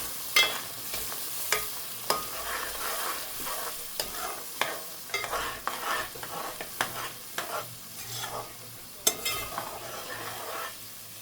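Pomfret curry stirred in a pan with a spoon, giving repeated scraping clicks and knocks over a low sizzle, steady and close throughout.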